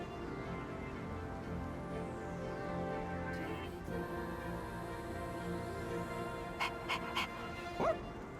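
A dog character in the video game Persona 3 Reload gives a few brief whimpers and yips near the end over steady background music.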